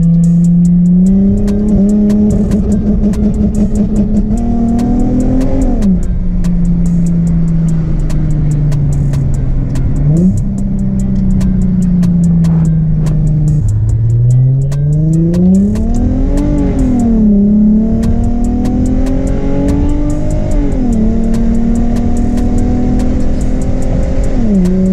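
A Nissan 350Z/G35 engine held near steady revs with anti-lag two-step, loud and close, climbing and dropping in pitch repeatedly with crackling pops throughout and no talk.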